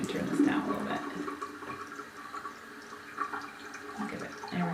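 Water runs and splashes onto Polartec Windpro fleece fabric in a home water test, a steady trickling pour with small drips, fairly soft and continuous.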